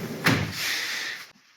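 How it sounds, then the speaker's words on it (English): A kitchen drawer on Blum Movento soft-close runners glides shut, a close, smooth sliding whoosh of about a second that ends in a quiet, cushioned stop. "Thus far we've used all Bloom, Movento drawer runners with their soft closiness."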